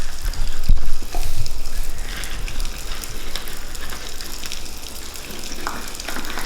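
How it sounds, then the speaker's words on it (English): Pop Rocks candy fizzing and crackling in soda, a steady dense hiss of tiny pops with a brief louder burst near the start, close and continuous with no talk. "I think it sounds like how it sounds when it's popping in your mouth."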